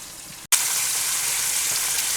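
Chicken frying in oil gives off a steady, loud broadband sizzle that cuts out briefly for a moment and then resumes at full strength, close and continuous with no talking.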